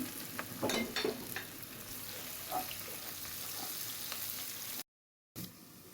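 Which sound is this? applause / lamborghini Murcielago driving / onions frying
onions frying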